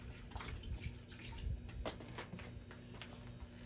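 About 8 ounces of water poured into an Instant Pot holding potatoes, a faint, brief splashing trickle in a quiet kitchen.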